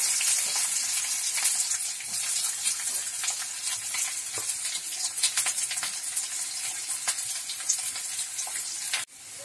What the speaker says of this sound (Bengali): এই যে পেঁয়াজ কুচুনোটা দিয়ে দেব,